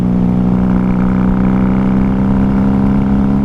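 A 1994 Honda Magna VF750C V-four motorcycle rides along at night, its engine a loud, close, steady rumbling drone with slight fluctuations in pitch and no speech.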